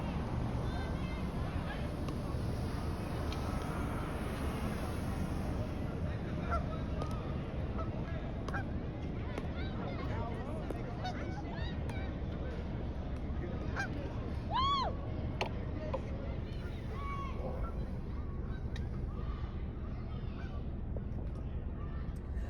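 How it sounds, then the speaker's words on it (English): Geese honk now and then at a distance while gathering around a woman feeding them bread, amid steady outdoor background noise, with people talking faintly. "Look how the geese are surrounding her for the bread."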